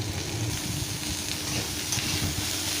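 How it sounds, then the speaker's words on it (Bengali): Carrots, long beans, capsicum and potatoes fry together in oil in a pan, a constant close sizzle with soft stirring scrapes and no voices. "আলুও হালকা ভাজা হয়ে গেলে তাতে আমি এবারে গাজর, বরবটি, ক্যাপসিকাম সমস্ত সব সবজি দিয়ে একসঙ্গে ভেজে"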